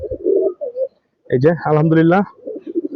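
A female Kaldam pigeon from the Madhabdi Rifat bloodline, a tournament flyer, gives one close, drawn-out coo of about a second, with someone talking just before and after it.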